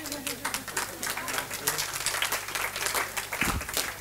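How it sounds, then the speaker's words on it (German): Audience applause at a cheerful German memorial ceremony for a professor, dense and steady clapping from a crowd across the whole stretch, fairly distant, with some voices mixed in. "Ja, man kann ruhig klatschen."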